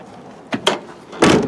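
The back door of a Land Rover Defender is opened, giving a few short metallic clunks and latch knocks ending in a louder rattling thud, close by with no talking.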